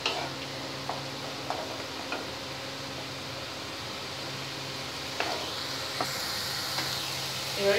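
Masala spice paste fries and gets stirred in a pan for a taro root and prawn curry, giving a steady low sizzle with occasional sharp ticks and clinks of the spoon against the pan. There is no talking.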